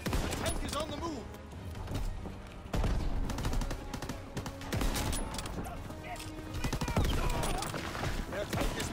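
Battle din from a WWII shooter as troops fire on infantry: scattered rifle and machine-gun shots crackle amid rumbling explosions and constant clatter, with voices speaking over the combat noise throughout.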